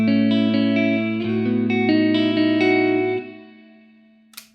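A Telecaster with neck and bridge pickups blended plays a short chordal phrase with a warm yet clear tone, then lets the last note ring before a brief click at the end.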